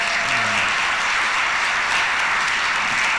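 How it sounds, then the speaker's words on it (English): Audience applause at a concert in Cadillac, a dense, steady wash of many hands clapping at once, loud and sustained across the whole moment without a break. "Please give him a big round of applause."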